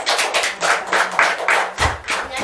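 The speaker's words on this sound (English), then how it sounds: "round of applause." A small group of volunteers clapping at a roadside attraction in St Ignace, a short round of loud, close claps in quick uneven bursts with no talk over them.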